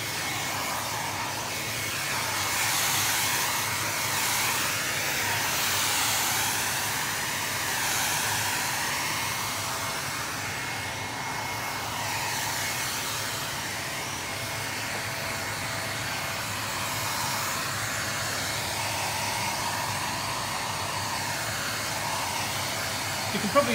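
A blower dries freshly applied lacquer on a leather front seat of a Riley Pathfinder, a continuous loud airy roar with slowly wavering pitch that holds for the whole stretch.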